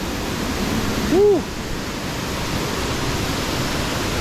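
Bang Pae Waterfall in Phuket roaring as a steady, loud wash of falling water, with a short whoop from a person midway.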